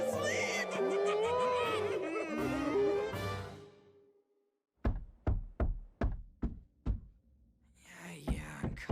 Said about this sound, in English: Stop knocking already.